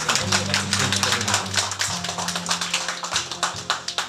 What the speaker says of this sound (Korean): 여러분 박수로.